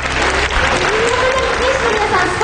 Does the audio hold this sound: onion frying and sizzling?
no